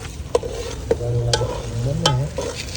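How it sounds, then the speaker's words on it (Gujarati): Hot oil tempering (vaghar) for dal sizzles loudly in a pan, with a continuous frying hiss, a few sharp pops and some stirring. "વઘાર કર્યો ભાઈ એમાં ડાળની ગ્રેવી બને છે"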